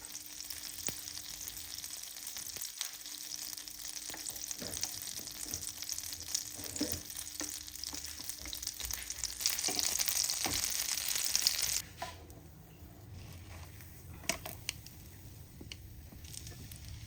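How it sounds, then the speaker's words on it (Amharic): Peanut butter sandwich toasting in a frying pan with a little butter or oil, giving a steady close sizzle and frying hiss with occasional scrapes and taps, quieter after a brief cutoff partway through. "ሌላኛውን ደግሞ የለውዝ ቅቤ አድርገን ሳንዱቹን እንሰራና መጥበሻ ላይ ትንሽ የገበታ ቅቤ ወይንም ትንሽ ዘይት አድርገን ትንሽ ቶስት እናደርገዋለን።"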